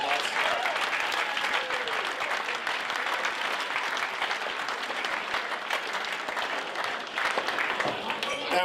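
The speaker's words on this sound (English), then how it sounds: "I think that deserves a round of applause." A club crowd at a football club's end-of-season awards night gives sustained applause for the volunteer photographers, a dense, even roar of many hands with scattered voices mixed in.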